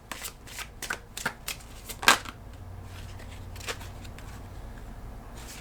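Tarot cards being shuffled and drawn, heard as a run of close, crisp riffling flicks and slaps with one loud snap, then settling into quiet handling.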